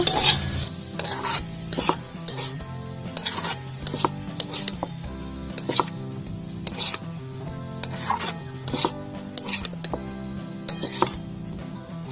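Spiced cumin potatoes with black pepper and chopped coriander being stirred in a pan, steady scraping and rasping strokes with occasional metallic clinks of the utensil, close and alone without talk.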